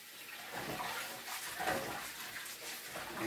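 Rice being rinsed and rubbed by hand in water in a home kitchen, a steady wet swishing and sloshing at close range, with no talking.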